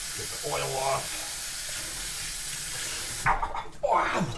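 Hot water running from a kitchen tap in a steady hiss, moderately close, with brief talk near the start and splashing at the end.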